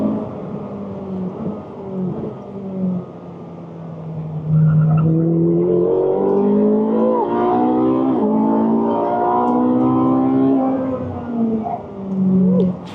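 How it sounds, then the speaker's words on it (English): Ferrari 458 Speciale supercar engine heard from inside while driving on track, a loud sustained high-revving wail with rising and falling pitch through gear changes, no talk. "I'm driving a Ferrari."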